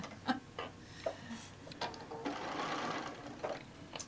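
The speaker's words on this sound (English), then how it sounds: "I will quilt tack it 3 times" A sewing machine quilt tacks a fat-quarter quilt, giving faint short runs of rapid stitching with small clicks and taps between, close but quiet.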